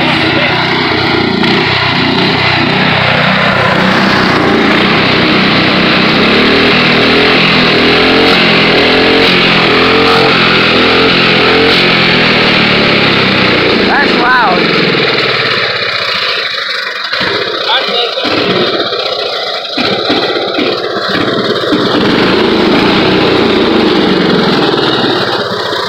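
A riding lawn mower engine runs continuously and loudly close by, with a drone that shifts in pitch partway through, and no voices are heard.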